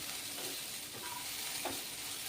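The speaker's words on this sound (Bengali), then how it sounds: "এভাবে গ্যাসের আঁচ কমিয়ে কিছুক্ষণ ভেজে নিতে হবে।" Leafy greens fry in a pan over a low gas flame, a steady soft sizzle with faint scraping of a stirring utensil now and then, close and continuous, no voices.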